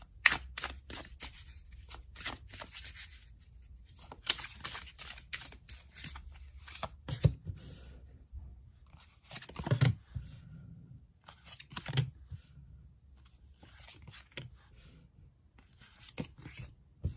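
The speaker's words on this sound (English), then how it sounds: "let's shuffle some cards" Rapid papery riffling and snapping of tarot cards being shuffled, in repeated bursts with soft handling noises between, close and fairly quiet.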